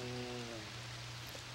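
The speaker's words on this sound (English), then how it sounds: "And of course it's raining, which is actually kind of creepy when you think about it since they're in the middle of a desert." Rain falls steadily in the desert city of Monsbaya in the video game Azure Dreams, a soft continuous hiss under a low sustained game music tone that fades partway through.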